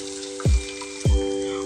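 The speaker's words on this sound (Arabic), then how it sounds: "هنحطها ونشوحها كويس قوي مع الشعريه" Rice and vermicelli noodles sauté in a hot pan, a steady close sizzle broken by two low scraping stirs about half a second apart, with no talk.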